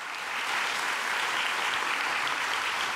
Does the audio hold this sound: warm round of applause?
yes